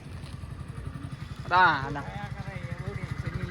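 A motorcycle is pulled out of a crowded parking area in Gandhinagar, its engine thrumming in a steady, close pulsing idle, while someone briefly speaks over it midway.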